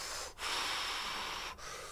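A voice imitates loud breathing: two long, forceful breathy exhalations, close and harsh, separated by brief pauses.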